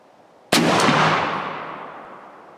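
A single muzzleloader shot fired with 100 grains of older Triple Seven 777 pellets: one sharp, loud blast followed by a long, fading rumble outdoors.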